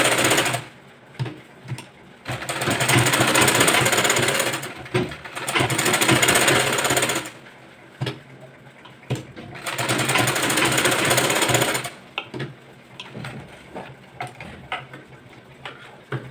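A sewing machine stitches a seam on a boat neck blouse, running loud and close in three long continuous bursts separated by short pauses and quieter handling.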